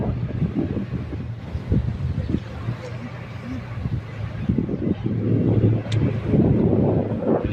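A steamer boat on the Ganges slowly docking at Rashmoni ghat: a steady low engine drone with wind buffeting the microphone, rumbling continuously and growing slightly louder toward the end.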